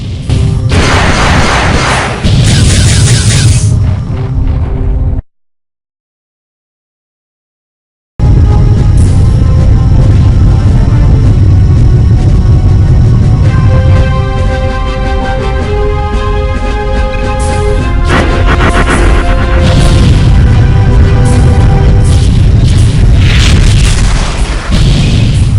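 Spaceship weapons blasting asteroids in the space combat game Freespace, a loud, continuous barrage of booming shots and impacts with a brief silent gap partway through.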